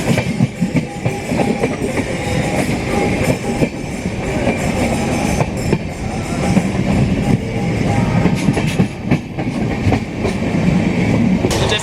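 AP Express train running at speed, a loud steady roar of wheels and carriages with rhythmic clickety-clack over rail joints, heard from on board throughout.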